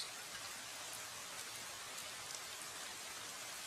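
A cartoon rain effect plays as a steady, even wash of falling rain, quiet and unbroken for a few seconds with no voices.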